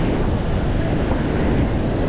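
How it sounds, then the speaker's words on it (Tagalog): Large ocean waves crash with strong wind, picked up on a GoPro at the shore, forming a loud, continuous roar of surf and wind buffeting the microphone with no voices. "Tingnan natin yung mga sobrang lalaki ng mga alon nila"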